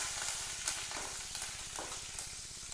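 Mustard seeds and curry leaves frying in hot oil with green chilli while cooking a jackfruit seed and brinjal gravy; a steady soft sizzle with a few faint pops and stirring, no talking.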